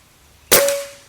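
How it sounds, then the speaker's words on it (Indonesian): A single sharp shot from an FX Airguns OD 38 PCP air rifle cracks out after a moment of quiet, followed by a brief metallic ring as the pellet strikes a target. "Oke, tembakan yang ke satu ya"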